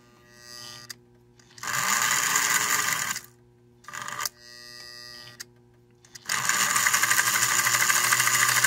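An American Flyer 350 S gauge Royal Blue toy locomotive runs on a bench test, its motor giving a steady whirring buzz in two long bursts separated by near silence, with a brief shorter run between them.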